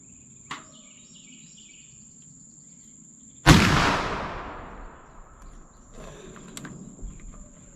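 A black powder test shot fired with 2F powder goes off as one loud, close blast, and its rumble fades over the next second or two. A faint click comes before it and low background noise follows, with no talking.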